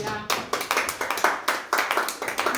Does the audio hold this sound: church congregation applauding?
yes